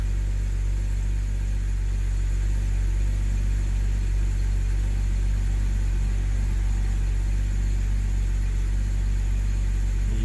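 A BMW 328i E90 engine idles steadily with a low, even rumble, running smoothly and close by with no voices.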